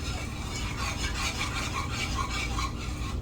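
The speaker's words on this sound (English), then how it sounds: "Now it's coming up to a boil, so I'm just going to keep stirring it." Sausage gravy is stirred in a pan as it comes to a boil, a close, continuous rhythmic scraping and rubbing of a utensil against the pan bottom with a faint bubbling sizzle underneath.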